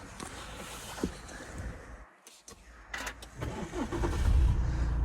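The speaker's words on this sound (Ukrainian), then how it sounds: "запустимо його, послухаємо, як працює двигун" Muffled cabin clicks and rustling give way to an Audi A6 TDI diesel engine with 218,000 km cranking and starting, then a low rumbling idle grows steadier and louder.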